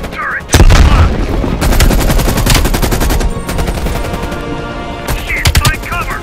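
Rapid machine gun turret bursts in a Call of Duty Black Ops Cold War campaign firefight, loud and sustained, with dense crackling volleys and heavy low booms, briefly easing midway before another burst near the end, with faint shouting in the mix.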